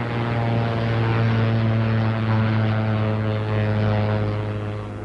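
A wartime propeller plane comes in to land, its aircraft engine droning loudly and steadily at close range with a strong, even hum and a faint swell and dip in level.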